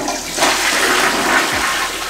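A newly installed toilet flushes in a home bathroom under renovation, a loud, steady rush of water that stays close and continuous for about two seconds.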